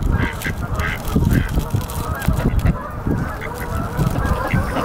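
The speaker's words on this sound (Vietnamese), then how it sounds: "Lôi cả mấy con ngỗng to kia đến đây này." Big geese honk loudly and steadily at close range, their calls overlapping in a continuous noisy chorus.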